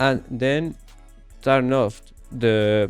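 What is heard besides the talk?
No distinct noise like a dog, phone or traffic.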